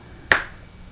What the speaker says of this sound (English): I'm going to snap my fingers.